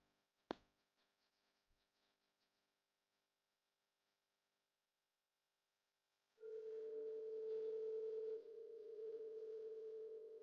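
A sharp click, then quiet, followed by a steady electronic telephone ringback tone humming on and off, heard alone without voices.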